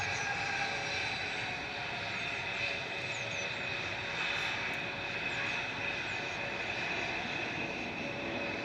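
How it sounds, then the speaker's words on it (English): A TUI jet airliner bound for Girona roars steadily through its takeoff run at Manchester Airport, a broad sustained engine rumble heard from a distance without talk. "This is the TUI 2616 to Girona with their parents on board."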